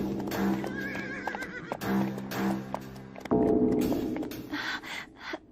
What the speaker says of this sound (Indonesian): Itu suara kuda dari orang kafir.